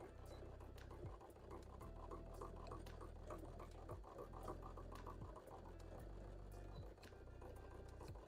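An older sewing machine stitches steadily with a fast, even mechanical patter throughout, running close and loud with only brief pauses in speed and no talking.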